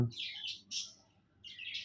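Small birds chirp and tweet in short bright bursts, with a pause in the middle, fairly close and moderately loud, no talking.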